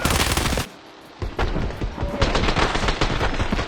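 Automatic gunfire in the shooter game Escape From Tarkov: loud rapid bursts, a brief pause near the start, then sustained close-range shooting for several seconds, no talking.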